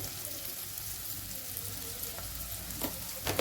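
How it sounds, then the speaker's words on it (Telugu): Onion puree with turmeric fries in a pan, a soft, even sizzle throughout with a couple of sharper stirring scrapes near the end, quiet and close with no talk. "పసుపు వేసి వేయించుకుంటే మంచి కలర్ వస్తుంది"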